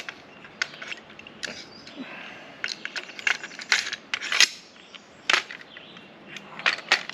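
A bolt slid back into an AR-10 rifle, close, faint metallic clicks, scrapes and small clacks at irregular intervals, with no speech over them.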